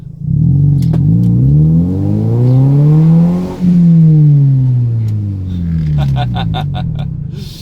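A car engine revs loudly and close, its pitch sweeping up to a peak and back down across several seconds with a brief dip in between, then settling into a steadier run.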